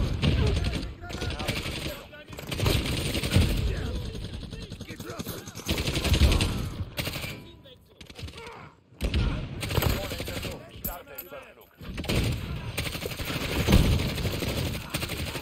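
Dense bursts of automatic gunfire from Call of Duty Modern Warfare multiplayer, repeated in rapid volleys with short gaps, while players talk excitedly over the shooting.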